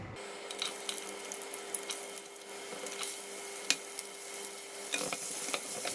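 Sliced garlic fries in about two tablespoons of hot cooking oil in a pan, giving a steady, close crackling sizzle with brief louder spits and stirring scrapes throughout.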